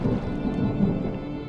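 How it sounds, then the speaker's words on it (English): Thunder in the video game Draugen rumbles low and far off, a steady muffled roll blended with a wash of rain. "Was that thunder? Still distant."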